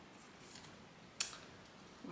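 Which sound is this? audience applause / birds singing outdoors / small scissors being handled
small scissors being handled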